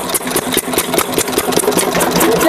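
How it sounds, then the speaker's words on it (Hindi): A small engine runs with a fast, rattling, knocking rhythm, loud and close, continuing steadily with no break for the whole stretch. "अब इंजन स्टार्ट होगा"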